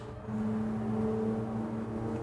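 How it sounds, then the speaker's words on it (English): A sports car engine revs outside, a steady low droning roar heard from a distance through the walls. "there's some jackass with a sports car"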